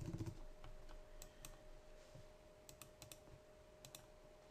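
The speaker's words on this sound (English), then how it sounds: "I'm going to select my text tool and let's type in Adobe Easy." Soft, close keyboard typing as text is entered in Photoshop CS5, with irregular clicks and short runs of keystrokes spread through the stretch and no talking.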